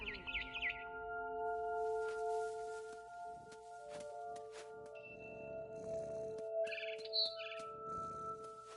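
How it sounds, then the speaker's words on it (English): Bird chirps from a barn swallow in the game What Remains of Edith Finch, short bright calls scattered over steady game music, with a brief cluster near the start and a louder burst around the middle-late section. "Then I heard chirping outside my window. It was a barn swallow going back to her nest."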